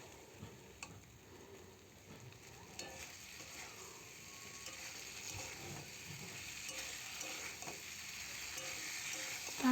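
Potato and taro pieces frying in spices in a pan for fish curry, a soft continuous sizzle with occasional scraping stirs, faint and fairly steady, gradually building.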